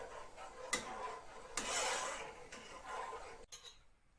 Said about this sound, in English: I'm going to be stirring this for a while now to get the right texture